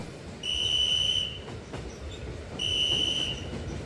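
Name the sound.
train guard's whistle in a horror audio story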